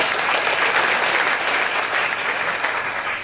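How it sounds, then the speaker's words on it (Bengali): A Bangla-speaking audience claps steadily at a talk about careers, a dense sustained round of applause that holds at an even loudness throughout with no voices over it. "আপনাদের জন্য একটা করতালি হবে।"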